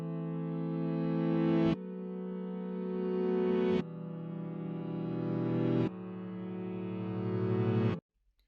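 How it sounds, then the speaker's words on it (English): Reversed piano melody in FL Studio, four swelling notes that each build steadily in loudness and cut off abruptly, forming a rising-swell pattern with no talk. "I reversed it. So it gives it a swell sound like this."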